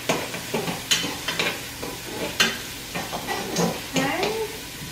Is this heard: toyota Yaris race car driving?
no